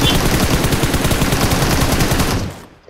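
A loud, fast rattle of automatic gunfire in a shooting video game, a continuous burst up close that cuts off abruptly near the end.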